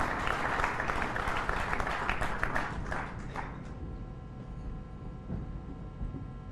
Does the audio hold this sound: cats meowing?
no